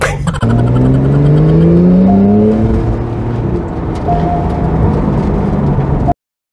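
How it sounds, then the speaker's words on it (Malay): A 2017 Porsche 911 Carrera 4 GTS with a 3.0-litre twin-turbo flat-six revs hard and accelerates with rising pitch, then settles into a steady, loud drone from inside the car before cutting off abruptly. "kereta ni dikuasakan dengan enjin 3000, 6 silinder flat top, ada 2 turbo dekat kereta ni"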